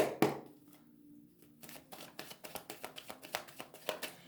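A deck of mirror oracle cards being shuffled by hand, a sharp riffle at the start, a brief pause, then a run of quick, close, rhythmic card flicks and slaps.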